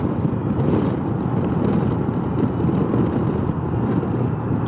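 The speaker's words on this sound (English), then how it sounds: "It's windy." Wind buffets a Honda PCX150 scooter on a highway run, a loud, continuous low roar and rumble that stays steady and close throughout, with no voices.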